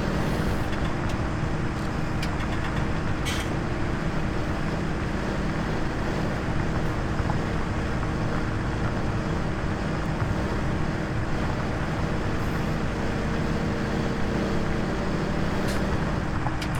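A tractor engine in the farming video game Farming Simulator 17 drones steadily and loudly throughout, a dense continuous rumble with no talking over it.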